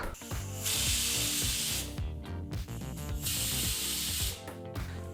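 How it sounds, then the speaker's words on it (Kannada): Two long, loud hissing bursts of escaping steam from a pressure cooker whistle while cooking kushka rice, each lasting over a second, separated by a short rattling pause. "ಹೀಗಿಲ್ಲಿ ಕುಕ್ಕರ್ ಎರಡು ವಿಸಲ್ ಬಂದಾಯಿತು"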